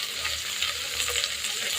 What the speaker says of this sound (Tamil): இப்போ நல்லா வதக்கிக்கலாம் ஃப்ரெண்ட்ஸ்.